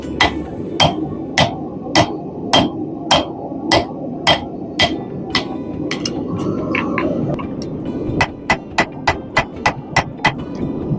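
Blacksmith hammering forged steel to cut off a hook, a close series of sharp, evenly spaced hammer strikes on the anvil, pausing briefly in the middle before the rhythmic blows resume.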